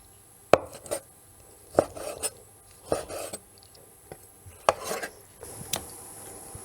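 Knife chopping sweet potato leaves on a cutting board: about six sharp, separate cuts at uneven spacing, close and moderately loud, with no voices.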